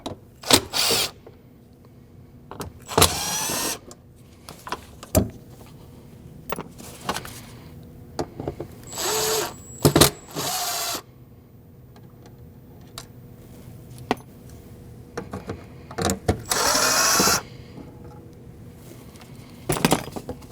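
Power driver or ratchet repeatedly spinning out the four Phillips screws on a 2014–2023 Jeep Cherokee fuel pump access panel, in several short whirring bursts with clicks and handling noises between them, close and moderately loud.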